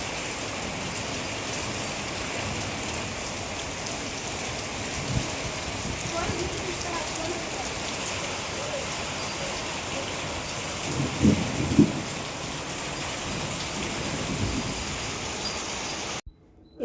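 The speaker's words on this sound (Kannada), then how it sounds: "ನೋಡಿ ಮಳೆ ನೋಡಿ ಬರ್ತಿದೆ" Rain pouring steadily with a distant low rumble of thunder partway through, heard from indoors while bhajji is being cooked; a continuous wash of falling water at moderate level.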